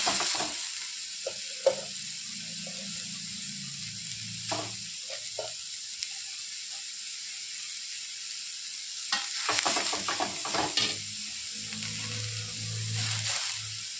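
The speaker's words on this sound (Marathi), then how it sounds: "भाजून घेणार आहोत आपण आधी थोडंसं" Grated radish, squeezed of its water, fries in a little oil in a pan, giving soft intermittent sizzles and stirring scrapes that come in short bursts against a quiet background.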